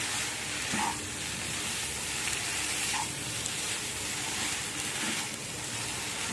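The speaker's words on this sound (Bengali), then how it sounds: "এখন এর মধ্যে আমি ভেজে রাখা ফুলকপি আলু দিয়ে দিলাম" Fried spiced cauliflower and potatoes stirred in a frying pan for a Bengali prawn curry, with a steady close sizzle and occasional soft scrapes as the pieces are turned.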